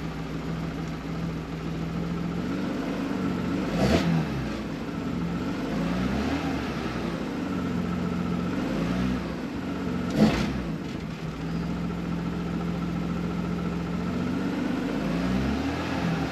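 A BMW E36 325i fitted with an M3 intake idles steadily with a low, even engine drone. Two brief sharp blips stand out over the constant hum.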